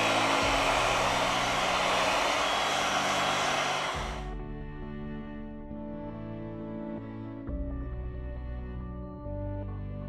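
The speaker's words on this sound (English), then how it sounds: "With the help of a heat gun, we apply 90 Celsius degrees during 4 minutes." Heat gun blowing hot air onto a ZTE V2020 Smart phone screen, a loud steady whooshing roar that cuts off after about four seconds, leaving a low hum.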